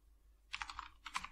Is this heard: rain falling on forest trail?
no